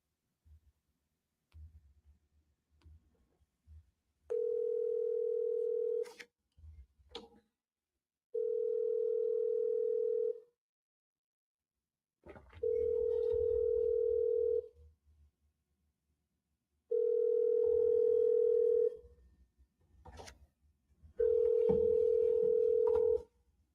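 A telephone's steady ringback tone sounds five times in even bursts while a call is placed, each about two seconds long with quiet gaps and faint clicks between.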